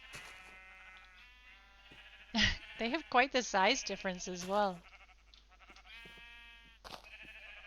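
Sheep bleating in a modded Minecraft wild-country server game, a loud burst of several wavering bleats in quick succession, with a person speaking briefly over the quieter background.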